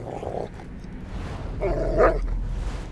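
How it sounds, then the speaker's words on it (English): A dog barks in short bursts in the video game Thief, a couple of gruff woofs rising over a low ambient rumble, with no talking. "Is that a dog I hear?"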